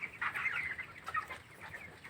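Seventeen-day-old broiler chickens clucking in a poultry shed, a soft, busy chorus of overlapping chirpy clucks at moderate distance, fairly quiet and without speech.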